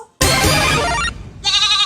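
A goat, offered as a prize in a snake and ladder game for farmers, bleats loudly and close in two calls, a long quavering cry followed by a shorter one.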